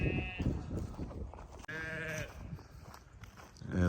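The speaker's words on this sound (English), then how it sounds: "And the sheep are telling me all about it." Sheep bleat repeatedly and close by, with several wavering calls overlapping one another against low rumbling wind noise, and a final bleat rising at the end.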